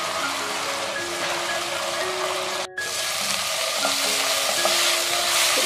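Water poured into spice paste frying in a pan for chayote stew, a loud dense hiss and sizzle that breaks off for an instant near the middle, then resumes and builds, with faint tonal kitchen hum beneath.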